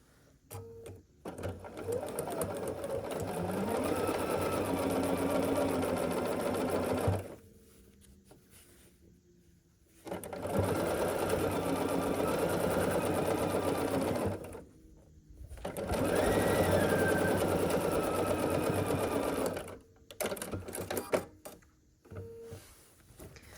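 A sewing machine stitches the final long center seam of a scrappy sampler quilt block, running in three sustained bursts of rapid, even whirring separated by short quiet pauses and small handling noises.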